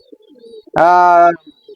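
A pigeon in a pigeon house gives a single loud, close coo lasting about half a second, with only faint background sounds around it.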